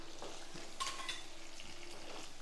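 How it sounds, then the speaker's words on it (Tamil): Soft, steady sizzling of onions and garlic sautéing in a pan, fairly quiet, with a brief scrape of stirring partway through. "வெங்காயம் கொஞ்சம் வதங்கிட்டுருக்கு."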